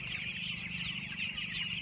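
Chickens and small chicks on a village farm, soft continuous clucking and high peeping nearby, quiet and steady with no talk.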